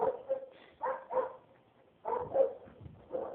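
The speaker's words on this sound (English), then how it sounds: "That's another little dog that's here." A small dog barks in several sharp bursts, three short clusters of yips and barks spaced across a few seconds, close by and clear with no talking over them.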